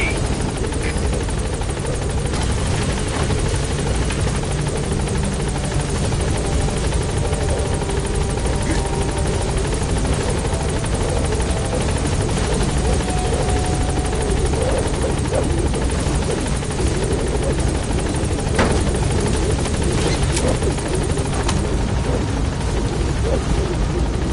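Pequod, the transport helicopter in Metal Gear Solid V, hovering on station at a landing zone: a loud, continuous rotor thrum and engine roar that holds steady and close for the whole stretch, with no talking.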